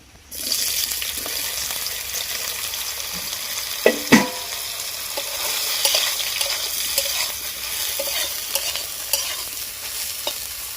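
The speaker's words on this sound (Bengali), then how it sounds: "এবারে আমি সোয়াবিনগুলোও ভেজে নেবো" Soybean chunks fry in a pan with a steady, close sizzle while a utensil stirs and scrapes them, giving a few sharp clanks partway through.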